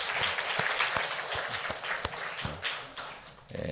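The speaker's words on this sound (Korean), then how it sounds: "우리 수고하신 할렐루야 찬양대 위해서 우리 박수함으로 한번 격려하겠습니다" A church congregation claps for the Hallelujah choir at a Sunday morning service, a dense, steady wash of applause with sharp individual claps standing out, lasting throughout.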